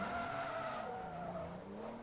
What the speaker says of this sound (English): I've spun the car.